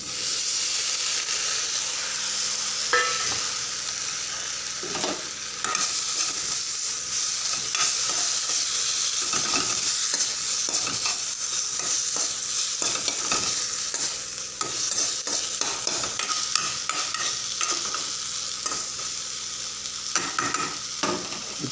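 Taro and star fruit (kordoi) stir-fry in a pan, a loud, steady sizzle and hiss with frequent spatula scrapes and stirring knocks close by, continuing without talk.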